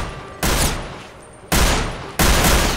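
Three loud, close gunshots in Prison Simulator, each a sharp blast followed by a decaying tail, spaced unevenly about a second apart.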